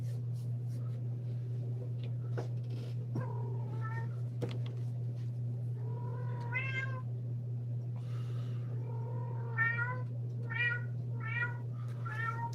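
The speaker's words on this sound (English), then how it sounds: "my cat's already yelling at him" A cat meows repeatedly indoors, a series of rising, insistent cries spaced a second or two apart over a constant low electrical hum.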